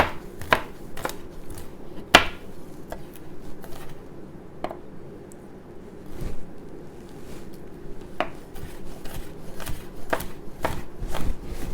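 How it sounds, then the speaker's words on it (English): A knife slicing and mincing garlic cloves on a cutting board, sharp irregular chopping taps, some louder and some softer, spaced by short quiet gaps, close and clear with no talking. "and then I just go back and forth, mincing up our garlic"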